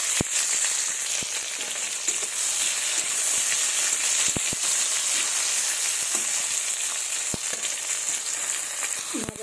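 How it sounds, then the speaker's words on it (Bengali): Deseeded tomato pulp fries in hot oil in a pan, a loud, continuous sizzle with occasional sharp clicks of stirring, and no voices. "তো এবার আমি এগুলোকেও ভেজে নেব।"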